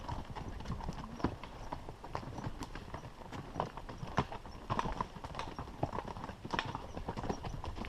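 Horse hooves clip-clop steadily at a walk, a continuous run of uneven knocks mixed with soft rustle and low background noise, with no clear voices.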